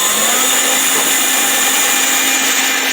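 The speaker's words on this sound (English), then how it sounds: "So now we're just going to drill through the headliner" A power drill whines loudly and steadily at high speed boring a 6mm hole through a Land Rover Defender headliner, a continuous close mechanical drone with no pauses.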